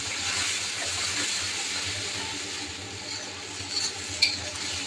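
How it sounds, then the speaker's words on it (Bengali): Cumin seeds spluttering in hot oil in a home kitchen, a soft continuous sizzle and hiss with small crackles and a sharper pop near the end, close but fairly quiet, without speech. "খালি জিরা ফোড়ন দিছি বাপরে বাপ তারা তো তুফান শুরু করছে"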